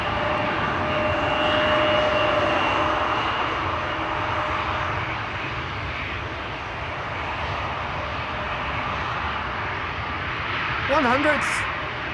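KLM airliner bound for Mumbai approaching at Schiphol Airport, a broad steady engine roar at moderate distance, with a faint tonal whine early on and a brief chirping sound near the end; no clear talk over it.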